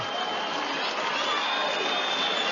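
Boxing crowd in Liverpool after a knockout, a continuous loud murmur and roar of a big arena audience with faint shouts mixed in.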